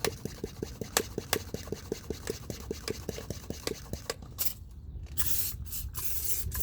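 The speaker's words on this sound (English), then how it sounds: "you're just gonna foam your wheel up. If you need a little more, you can use a few more pumps." An IK Foam Sprayer 1.5 puffs Meguiar's wheel brightener onto a Honda Accord wheel in a quick run of rhythmic pump clicks and short spray bursts, then a longer, steadier hiss of foam close by.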